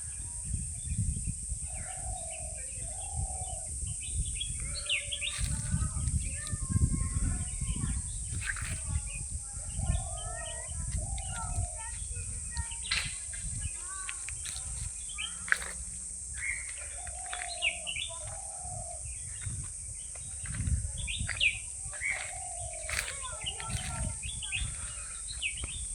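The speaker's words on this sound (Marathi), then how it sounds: "शांतपणे पक्ष्यांचे आवाज आणि वेगवेगळ्या प्राण्यांचे आवाज तुम्ही ऐकू शकता." Birds sing and call repeatedly throughout dense Anjanvel forest, several short chirping phrases and whistles at moderate distance over a low rumbling background.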